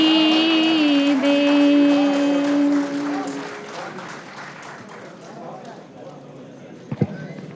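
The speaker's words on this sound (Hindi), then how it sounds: "यकीनन ये तालियां बहन अमृता की खूबसूरत आवाज़ के लिए थी।" Audience applause after a sung hamd at a live poetry and music gathering, a dense patter of clapping that rises as the last sung notes end and then thins out, fairly close and lively.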